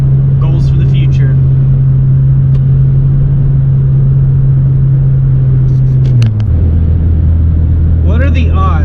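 A modified car with a Honda J35 engine holds a loud, steady engine note that shifts pitch lower near the end, with brief higher bursts over the top.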